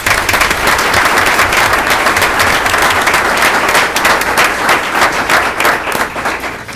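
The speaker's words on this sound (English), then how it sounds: "let's still give them a round of applause" A school board meeting audience gives loud, sustained applause for absent staff being recognized for years of service. The thick, continuous clapping holds nearly constant before easing off toward the end.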